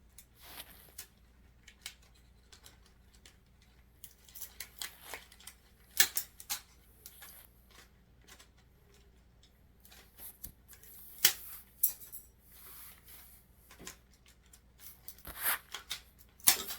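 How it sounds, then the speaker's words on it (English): Wire cutters snap through thin wooden skewers at a craft table, producing irregular sharp clicks and crunchy snips in a quiet room, some in quick bursts and others spaced apart. "I'm just taking wire cutters and I'm cutting or attempting to cut the skewers down to size"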